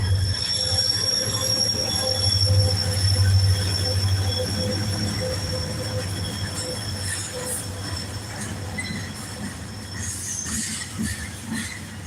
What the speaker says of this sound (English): That's a short little train right here.